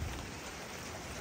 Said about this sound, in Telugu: అమ్మో వర్షం ఎక్కువైతుంది